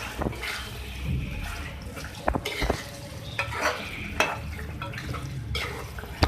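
Chicken karahi with julienned ginger being stirred and mixed in a pan, a low bubbling sizzle beneath intermittent scraping and clinking strokes of the spoon against the metal, close and moderately quiet.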